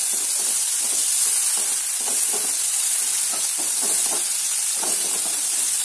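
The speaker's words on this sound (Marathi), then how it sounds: "हळद झाली की एक चिरलेला टोमॅटो, याला छान परतून घ्यायचं।" Chopped tomato sizzles in a pan as it is sautéed with turmeric, a steady hiss interrupted by stirring scrapes, close and moderately loud, with no talking.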